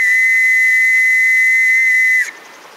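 A World War I trench whistle, a tube with internal perforations, blown in one loud, steady, piercing shrill note held for about two seconds before cutting off sharply, close and alone.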